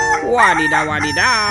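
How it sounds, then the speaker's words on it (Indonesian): A rooster crows loudly and close by in one drawn-out, wavering call, with a voice speaking over part of it. "yang ini ada ayam berkokok"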